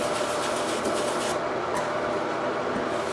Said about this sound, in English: get some of this and just scrub it in with a toothbrush.